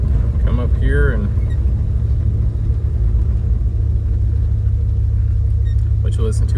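1980 Jeep Cherokee with a 360 V8, lifted 4x4 on 33x12.50 tires, idling with a low steady rumble while someone talks briefly over it at the start and end.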